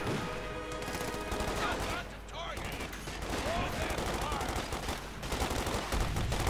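Thompson submachine gun and bazooka fire from airborne squads in Company of Heroes 2, steady rattling gunfire and battle noise under a commentator talking.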